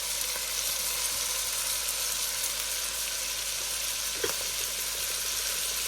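Onion and celery fry in a pot for New England clam chowder, giving a constant, close sizzle with a faint clink or stir partway through.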